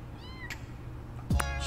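A street cat meows in Boyfriend Dungeon, a clear close meow near the start followed by a louder, sharper second cry at the end over soft background music.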